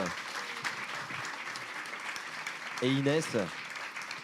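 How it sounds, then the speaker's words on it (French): Audience applause at a climate-injustice event fills the room steadily, with a brief burst of talk over the clapping near the end. "Vous pouvez applaudir Yamina Saeb"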